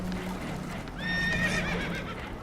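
Spooked horses whinny and neigh aboard a damaged boat taking on water in Red Dead Redemption 2, a loud, shrill, wavering neigh rising over steady low rumbling ambience.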